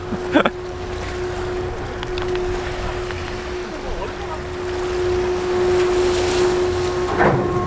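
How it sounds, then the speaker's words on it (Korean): A ferry arrives at Gulupdo island under a steady engine hum, with wind, waves and a few sharp bursts of nearby noise; voices are faintly heard. "아, 드디어 배가 들어오고 있습니다."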